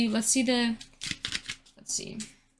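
Tarot cards being shuffled, a few quick riffling bursts close by, with a voice talking over and between them.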